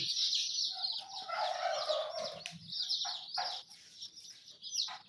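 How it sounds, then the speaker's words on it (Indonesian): One-day-old male broiler chicks peep constantly as a dense, high chorus in a warm brooder pen, with individual calls rising above a steady chattering mass. "Ini DOC pejantan umur 1 hari."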